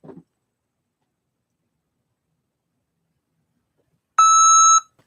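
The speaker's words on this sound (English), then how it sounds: "My phone is going off apparently." A phone alarm sounds in a short, loud electronic tone near the end, a single sustained beep against near silence, after a faint brief noise at the start.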